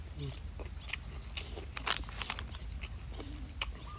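Close crunchy biting and chewing of crispy Thai pork rinds eaten with noodle soup, a series of short crackly crunches spread through the clip over faint room noise.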